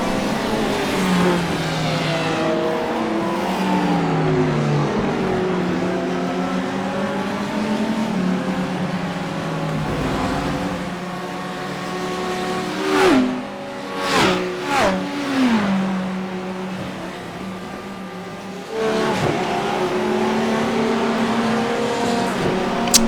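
GT3 race cars, including a Porsche and an Audi, race in a video game, with loud, continuous engine notes that rise and shift through gear changes as cars pass close by, without talk.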